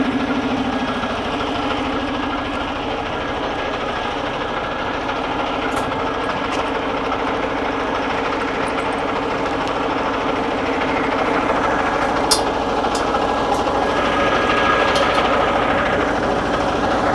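A semi truck's diesel engine idles steadily to hold air brake pressure, a continuous close, even rumble with a faint higher whine over it, holding level throughout with only occasional small ticks and no talking.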